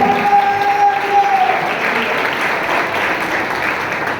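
An audience claps loudly and continuously, a dense wash of applause that holds steady throughout, with a brief tone fading out near the start.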